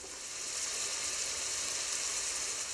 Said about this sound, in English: So we're going to cook those until the onions and the jalapenos are softened.